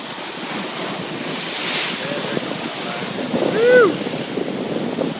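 Waves wash and crash nearby under strong wind buffeting the microphone, with a surge building and breaking toward the end.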